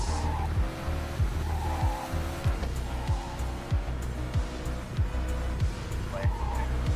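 A car slides and skids on a slippery road in a rally-style racing video game, with steady engine drone, repeated tire squeals and rhythmic thumps from the surface, while a voice speaks over the driving.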